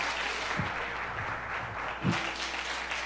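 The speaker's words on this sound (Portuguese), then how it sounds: "Aplauda o Senhor, queridos," Steady audience applause at a church worship service, a dense wash of clapping from many people, continuing without a break.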